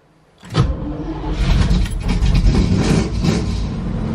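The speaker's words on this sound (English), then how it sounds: "Let's see how it starts up cold." Vintage car engine started cold, a sudden crank and catch followed by a loud, rough, steady idle that stays close and unbroken for several seconds, with no talking.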